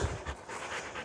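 A dog pants steadily and close by outdoors at night, quick breathy huffs repeating over rough background noise.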